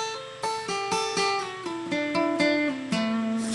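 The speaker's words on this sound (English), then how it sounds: "So it's called a hammer-on and a pull-off" A short guitar phrase of smoothly connected notes from hammer-ons and pull-offs, with few sharp attacks, played alone with no voice.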